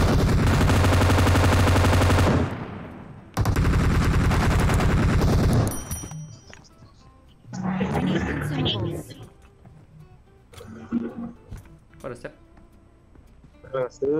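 Gunfire in PUBG Mobile: two long, loud stretches of rapid automatic shooting, followed by scattered shorter shots with voices talking in between.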